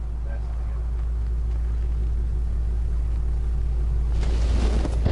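Low, steady rumble of a propane Bluebird school bus idling in drive, heard from the driver's area, quiet and even, with some handling noise near the end.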